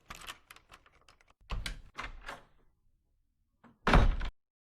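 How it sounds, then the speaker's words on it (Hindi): A door is opened, with a series of soft knocks, thunks and handle or latch clicks, followed by a louder final bump, all fairly close and without talking. "उसने जाकर दरवाजा खोला।"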